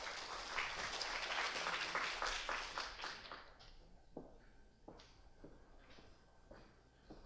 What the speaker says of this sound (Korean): 조아선임을 박수로 맞이하도록 하겠습니다